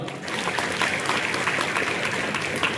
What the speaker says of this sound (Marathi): आपल्या मायबापासाठी एकदा जोरदार टाळ्या वाजवा.